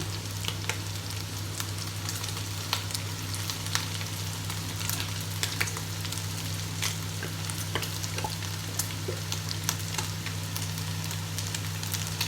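Food stir-frying in a pan with oyster sauce just added, a dense continuous sizzle and crackle with frequent sharp spoon-against-pan clicks, close and steady throughout, alongside a constant low electrical hum.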